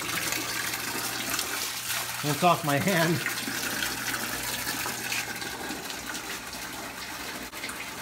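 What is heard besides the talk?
water running into aquarium to disperse sand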